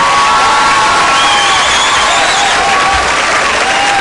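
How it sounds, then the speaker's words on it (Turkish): An audience at a memorial evening claps loudly and continuously, dense sustained applause filling the hall with a few cheers, close and full. "alkışlarımızla ben buraya kadar rica ediyorum Faruk abimi."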